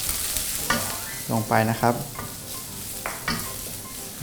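Sichuan peppercorns or fragrant chilies stir-fried in a pan for Sichuan chili pork, with several short scraping stirs of the utensil against the pan over a soft sizzle while someone talks over it.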